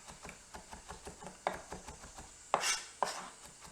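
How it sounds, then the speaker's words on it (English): A knife taps rhythmically on a cutting board while mincing a large smashed garlic clove, steady quick chops with a few louder knocks and a scrape, close and alone. "I'm just going to smash that down. Break up those fibers and just mince this up."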